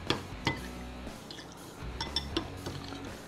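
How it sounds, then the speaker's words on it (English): Spoon clinking against a bowl while fajita marinade with chopped cilantro is mixed, a few sharp clinks over a low background hum, close and moderately quiet. "Now we're going to mix this up really good."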